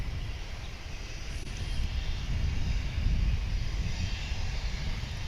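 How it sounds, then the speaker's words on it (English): A Cessna 208B Super Cargomaster at DFW International Airport gives off a steady broadband engine roar that swells slightly midway, heard at a distance with wind-like noise and no talk. "It'll be a Cessna 208B Super Cargo"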